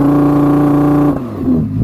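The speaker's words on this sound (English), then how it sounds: "If you engage launch control, then you can sort of rev it." An Audi R8 V10 rear-wheel-drive engine held at high revs on launch control gives a loud, steady buzzing drone, then drops off sharply and settles briefly.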